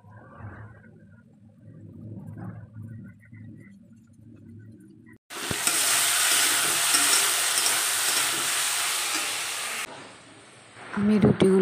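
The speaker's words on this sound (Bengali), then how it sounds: "ভাজছি এই চাটা।" Food frying in a pan gives a loud, steady broadband sizzle that bursts in midway and runs about four seconds before cutting off, following quieter talk at the start.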